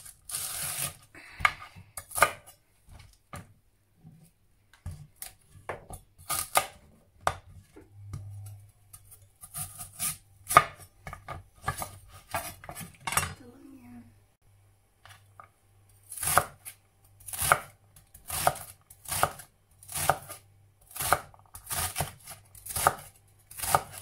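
A knife chopping celery on a cutting board while making Bolognese sauce, a long run of crisp irregular cuts, some slow and spaced, then faster rhythmic bursts, close and clear with no talking.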